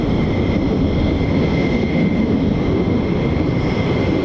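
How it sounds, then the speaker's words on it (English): A US Air Force fighter jet flying at RAF Lakenheath, a loud steady broadband engine roar with a faint whine on top, holding constant throughout with no voices. "Such a classic combat aircraft."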